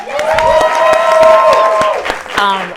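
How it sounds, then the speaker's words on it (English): Live show audience clapping for a mother seated in the front row, brisk individual claps heard close alongside a voice and some cheering, rising briefly near the end. "let's clap for her"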